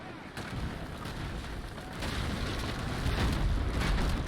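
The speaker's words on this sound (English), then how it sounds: "Artillery tower firing." An artillery tower fires on warships in the Naval Action game, heavy booming blasts and rumble rolling over one another, loud and dense, growing stronger toward the end.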